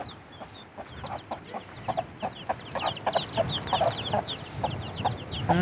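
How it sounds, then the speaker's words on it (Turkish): A hen clucks and five chicks peep in quick, repeated chirps close by in a village, a busy cluster of small calls over low background noise. "sadece tavuğu gösterelim. Civcivleri gösterelim."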